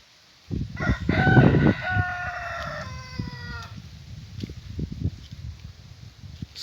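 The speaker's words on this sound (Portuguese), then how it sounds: "Escutou o galo cantando?" A rooster on a rural smallholding crows once, clear and close, in a drawn-out cock-a-doodle-doo. Scattered soft clucks and rustling farm noises continue after the crow fades.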